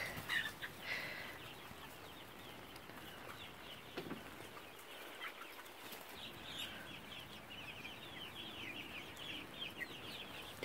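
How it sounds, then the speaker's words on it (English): Small white chickens cluck softly at a distance amid outdoor ambience, with scattered short calls spread across the scene. "And then there's these little white chickens."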